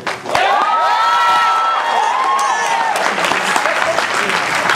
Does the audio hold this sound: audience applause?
yes